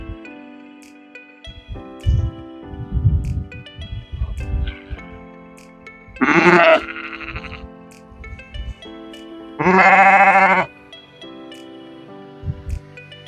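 Sheep bleat loudly twice, each call long and wavering, separated by a few seconds of quieter rustling and tonal background sounds.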